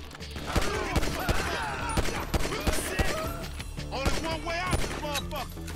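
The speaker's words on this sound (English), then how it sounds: "pick up the gun. Pick up the gun. Alright. Shoot that motherfucker." Rapid bursts of gunfire ring out in Grand Theft Auto V, dense sharp shots and volleys repeating across the whole stretch, loud and close, with game voices and effects mixed in.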